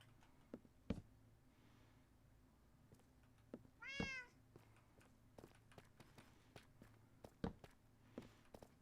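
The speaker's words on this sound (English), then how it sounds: "It's such a kitty." A cat gives one short meow partway through, faint and somewhat distant, amid scattered soft taps and footstep-like knocks in a quiet room.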